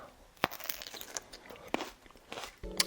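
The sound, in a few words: biting into a kiwi with its skin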